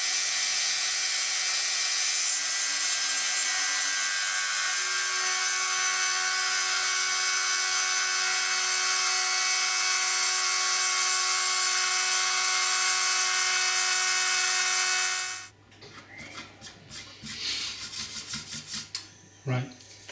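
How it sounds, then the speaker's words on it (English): A small rotary drill spinning a 2mm bit into wood during a 12-string guitar build gives a steady high whine for about fifteen seconds, then stops, leaving brief rattling and handling noises. "I thought I'd try the 2mm bit in order to be able to make things a bit more finely, but hopefully it won't break"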